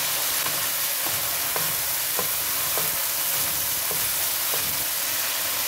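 Chow mein noodles and vegetables tossed with sauce in a hot pan for a chicken chow mein, a steady close sizzle of frying with regular scraping strokes of stirring, no talking.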